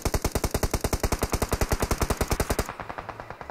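Rapid automatic gunfire from a PUBG-style battle royale shooter, a fast, evenly spaced burst of loud close shots lasting a few seconds before cutting off, with low rumble after.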